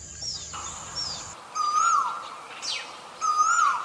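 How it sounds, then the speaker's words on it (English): A common koel (Eudynamys scolopaceus) gives two loud, ringing rising-and-falling coo-oo calls over a steady hiss of morning ambience, with fainter chirps from other birds in between. "Its unmistakable, ringing coo-oo call pierces the morning air"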